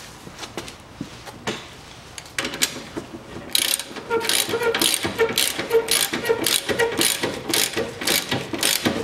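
Fast, close clicking of a ratchet tightening the top stabilizer strut bolts on a 2010 Kia Rio 1.4, starting quietly and turning into a steady run of repeated clicks.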